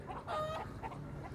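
Chickens cluck in short repeated bursts in a storage godown, close and moderately loud, with a steady rumble of background noise underneath.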